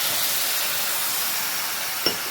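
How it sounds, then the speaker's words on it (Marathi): Water added to eggplant and potato frying in a spiced tempering gives a continuous loud steamy hiss, with a single faint clink near the end. "तर चला आता याच्यामध्ये आपण थोडं पाणी टाकून घेऊया."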